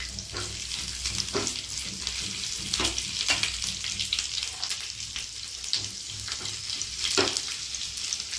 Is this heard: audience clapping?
no